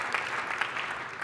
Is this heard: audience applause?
yes